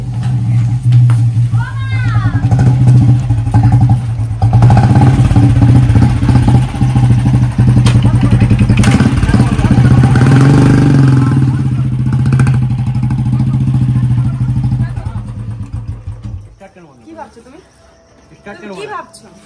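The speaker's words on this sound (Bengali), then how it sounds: "বাইক স্টার্ট দিয়েছে গাইস" A motorbike engine idles loudly and close, a steady low throbbing running under frequent talking, then cuts out near the end, leaving quieter voices.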